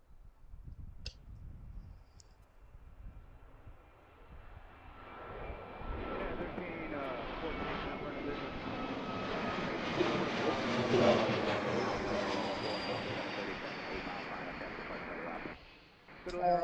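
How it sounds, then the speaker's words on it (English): A United Airbus A321 takes off at Reagan National Airport, its engine roar building from a distant rumble to a loud, sustained jet roar that peaks and then fades as it climbs away, with faint voices early on. "So that one that just took off was United 746 to Denver and Airbus A321"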